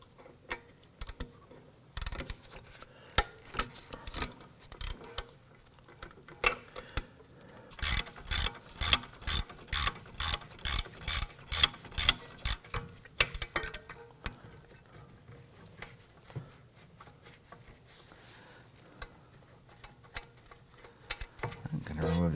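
A ratchet clicks in quick, even runs while loosening caliper bracket bolts at the rear hub of a 2003-2014 Volvo XC90, with scattered clanks before and after a long burst of rapid pawl ticks.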